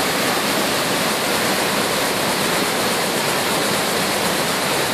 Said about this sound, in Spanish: Una cascada con una caída de 2, 3, 4 metros